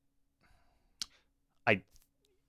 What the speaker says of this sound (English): Now, I will say they are clicky pads.